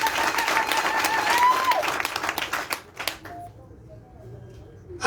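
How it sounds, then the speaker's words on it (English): A crowd at a political launch event for a freedom platform gives a loud, dense burst of applause that thins into scattered claps and fades over a few seconds, with a voice talking over it. "please a loud clap for all of"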